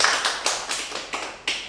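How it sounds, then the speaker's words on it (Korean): A small group of residents at a Korean neighborhood council meeting clapping together, about seven sharp, evenly spaced claps in a brisk rhythm, close and fairly loud. "서로 오래간만에 만났는데 박수 한번 치면서 시작하겠습니다"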